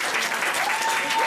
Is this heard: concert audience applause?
yes